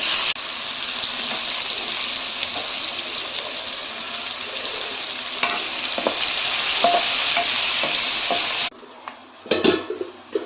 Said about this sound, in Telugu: అదే ఆయిల్లో ఆనియన్స్ ఫ్రై చేసుకున్నాము